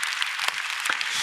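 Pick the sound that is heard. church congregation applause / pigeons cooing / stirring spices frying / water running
church congregation applause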